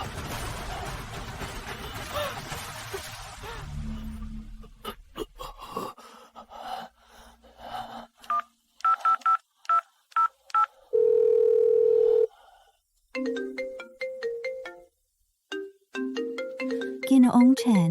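Telephone keypad dialing tones beep in a quick irregular sequence, then a steady ringback tone holds for about a second before more short beeps, with gasps and tense voices heard loudly around them.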